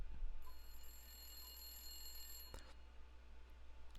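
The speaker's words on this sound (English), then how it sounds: "I was about to leave when the phone rang." A telephone rings in a video game, a steady electronic bell tone with bright harmonic lines lasting about two seconds before cutting off with a click, over a low background hum.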